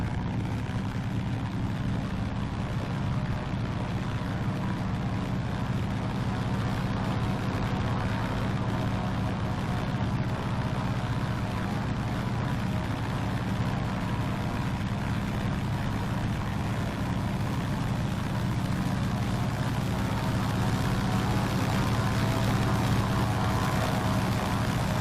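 Steady, loud drone of a Thranda Beaver's radial engine and propeller while the plane taxis in X-Plane 11, holding an even, unbroken tone with no talk over it.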